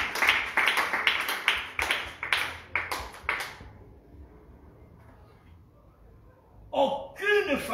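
A short run of sharp claps comes first, loud and fairly regular. Quiet follows, then a brief burst of voice at the end.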